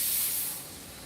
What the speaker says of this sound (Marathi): हा कुकर बाई बाई बाई, मला राग येतो त्या कुकरचा.